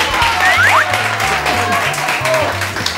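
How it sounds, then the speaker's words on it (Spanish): Television show audience clapping in a Spanish studio, a steady dense patter of hands running under music with a repeating bass line and occasional voices. "un aplauso que ha hecho pleno"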